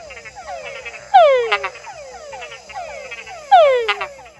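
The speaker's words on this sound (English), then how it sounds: "The Tungara frog has begun his concert" Tungara frogs calling at night at a shallow pond, several males overlapping with soft descending whines, two louder nearby calls ending in short chuckling notes, over a steady insect-like hum.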